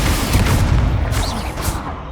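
A Confringo fire spell bursts with a booming blast in the Hogwarts Legacy video game, a dense rumbling explosion with crackling debris filling the whole moment loudly.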